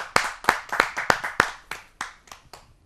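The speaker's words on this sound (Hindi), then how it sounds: "आइए जोरदार तालियों से।" Audience at a Hindi poetry gathering claps in a quick, uneven burst of sharp hand claps, about a dozen close strikes that gradually thin out and soften.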